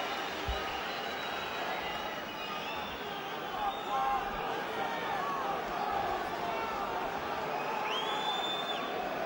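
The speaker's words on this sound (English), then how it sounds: "And now the crowd raise their voices once again." A boxing arena crowd roars and cheers at a 2008 Froch versus Pascal fight, a dense sustained wash of voices with occasional whistles rising over it.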